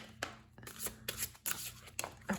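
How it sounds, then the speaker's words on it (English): Tarot cards being shuffled by hand in repeated quick riffling bursts, close and fairly quiet, with brief pauses between passes. "I'm going to keep shuffling though."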